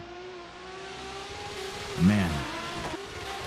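Drift cars running tandem at Raceway Park, engines droning steadily at a distance with a louder revving swell midway, while a commentator speaks over the track noise.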